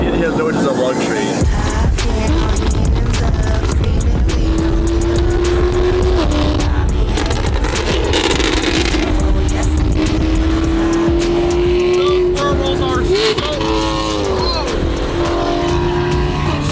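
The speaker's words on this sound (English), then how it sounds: "The car thing's funny, but the car sounds good." A Lamborghini engine revs loudly and continuously with rising and falling pitch, mixed with tire squeals, close and dominant, while people talk over it.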